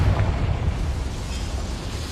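A Confringo spell blast from Hogwarts Legacy goes off as a dull, rumbling boom, followed by a steady low roar that holds for about two seconds with no voices.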